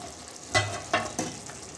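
Semiya vermicelli fries in hot oil on a low gas flame, with a steady soft sizzle broken by a few sharper scraping stirs about half a second apart, close up and with no talk.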